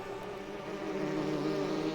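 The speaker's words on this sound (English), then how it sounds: "There's a lot of bees." Bees buzzing in the Enderal VR video game, a continuous droning hum that holds steady and grows slightly louder, with no talk over it.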